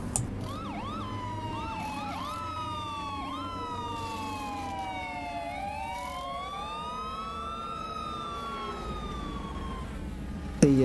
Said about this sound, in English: The sound of the siren, by the way, is the course car that you can hear